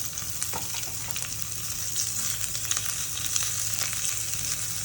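Mustard seeds, cumin, curry leaves, asafoetida and finely chopped onions sizzle in hot oil for a bottle gourd yogurt curry, a steady close crackling hiss with faint stirring ticks, no voices.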